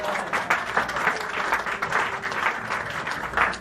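A church congregation at a Pentecostal tabernacle service bursts into sustained, dense applause, steady and close throughout with no spoken words over it.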